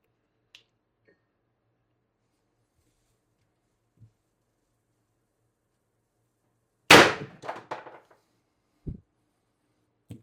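An X-68 Storm Trooper paintball marker running preheated CO2 fires a single sharp, loud shot at close range, followed by brief rattling echoes and a later faint thump amid near silence.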